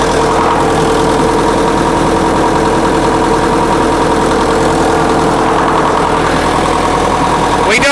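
An International Harvester UD9 diesel generator set runs steadily at idle, a loud, close, continuous engine drone with even mechanical rumble and vibration throughout, no talk.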